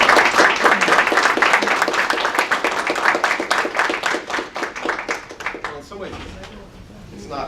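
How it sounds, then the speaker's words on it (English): An audience at a philosophy conference plenary applauds steadily, many hands clapping together in a dense, sustained burst that gradually fades toward the end. "So we'll sit and we'll clap"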